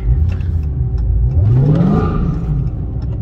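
A Dodge Charger SRT Hellcat with a Demon-powered engine revs hard in traffic, its deep, loud roar climbing in pitch through an acceleration before easing off, heard from inside the car.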